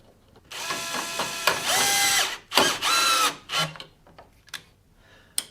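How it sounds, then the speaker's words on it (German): A power driver fastens a part on a Bosch GTS 10 XC table saw, firing several loud, close whirring bursts with ratcheting clicks between short pauses, then falling quiet. "Ich schraube das jetzt einfach mal fest."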